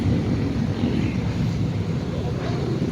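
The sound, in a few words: strong wind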